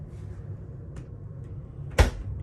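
A small cooler fridge door in a cruise ship cabin gives a single soft thud near the end, after a quiet stretch with a faint room hum.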